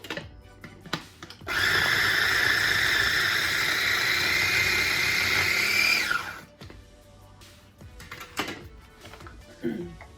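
Garlic cloves minced for a seafood boil: a steady, loud whirring motor drone runs for about four and a half seconds, then cuts off, leaving quieter handling clatter.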